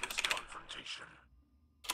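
A short burst of quick keyboard typing, a few rapid clicks close by, fading off before a final tap.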